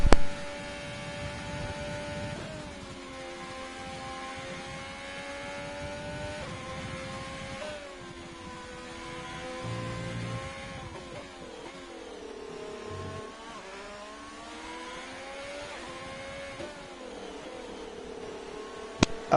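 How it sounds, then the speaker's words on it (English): Race car engines in a racing video game, a continuous high revving whine rising and falling through gear changes and accelerations, with no talking over it. "you can just listen to some car sound for a minute"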